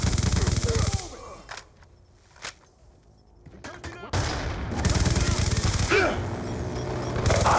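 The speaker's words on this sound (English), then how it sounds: "Be advised, hostile death machine spinning up." Rapid automatic gunfire from a Death Machine minigun in the video game Black Ops II comes in dense loud bursts, with a quieter gap in the middle before the firing resumes and holds steady to the end.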